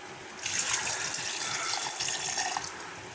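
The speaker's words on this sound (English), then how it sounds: "Gonna add a bit of water." Water pours into the jar of a Philips HL7556 750 watt mixer grinder, a steady splashing trickle lasting about two seconds, close and moderately loud, no talking.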